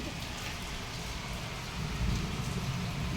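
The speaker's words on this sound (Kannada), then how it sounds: "ಯುಗಾದಿ ಹೊಸ ಮಳೆ ಬರ್ತಾ ಇದೆ ಹುಬ್ಳಿ ಒಳಗೆ" Steady rain, the first of the new season, patters down in Hubli in a continuous hiss, growing a little louder toward the end, with low rumbling underneath.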